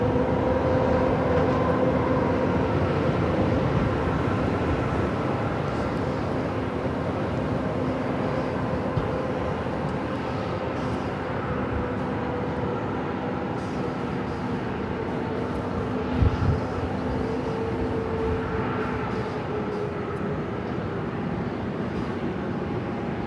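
An airliner rumbles at Phoenix airport on a flight bound for Dallas-Fort Worth, a steady broad engine roar with a faint whine, heard from a distance at an even level throughout.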